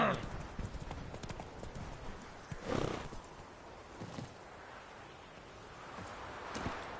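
In a video game, the horse Roach's hooves clip-clop at a steady gait, with a short whinny-like burst and rustling in the background.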